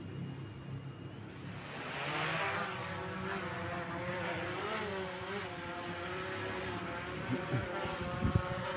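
A DJI Mavic Pro drone lifts off and flies, its rotors giving a steady, fairly loud buzzing whine that rises in pitch at takeoff and then holds a wavering drone throughout, with no talking.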